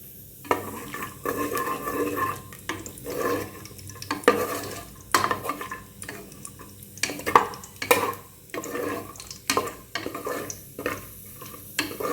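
Cashews fry in a pan for moong dal halwa: repeated close scrapes and clinks of a spoon stirring against metal come in bursts over a soft sizzle, with no talking.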